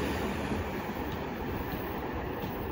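A 100-series limited express train passes a rail junction near Toda station on the line toward Omiya, a continuous, moderately loud roar of wheels on track with faint clicking, heard from trackside with no talk.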